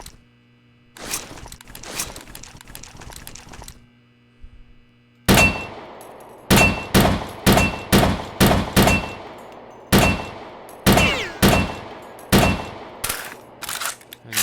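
Dual-wielded pistols fire in the RealRTCW game at a training facility: a short rattling burst, then a rapid series of loud, sharp shots at an uneven pace, each ringing briefly before the next.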